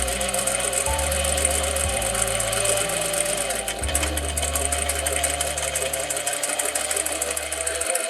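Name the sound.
sewing machine stitching a jeans zip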